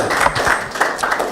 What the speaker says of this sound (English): You clap for Group 3 and 4 because you know that's the end.